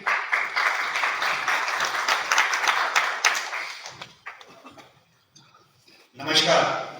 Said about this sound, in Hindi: तो मैं नेक्स्ट इनवाइट करने जा रहा हूं आपकी जोरदार ताली के साथ धर्मराज मीना फ्रॉम दिल्ली।